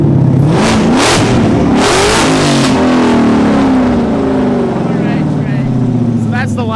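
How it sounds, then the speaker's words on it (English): A car engine revs loud and close, roaring and dropping in pitch while tires spin with a rushing hiss, voices faintly underneath. "you hear the tires spin?"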